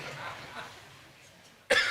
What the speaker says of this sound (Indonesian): Aduh, mereka batuk ya.